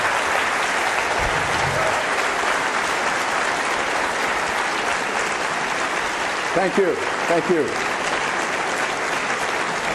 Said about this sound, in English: By your extended clapping, you're eating up into the next speaker's time.